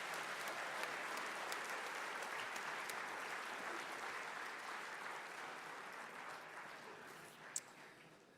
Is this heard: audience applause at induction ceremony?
yes